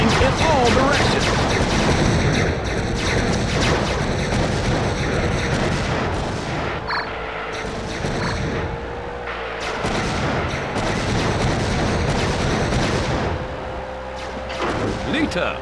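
Twisty rockets fire in all directions in the WWE Crush Hour vehicle combat game, with repeated booming shots over continuous engine roar and game noise, and a commentator talking throughout.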